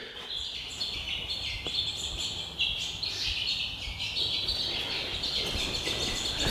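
Birds chirp and tweet continuously nearby, a dense overlapping chorus of high calls over a low outdoor rumble.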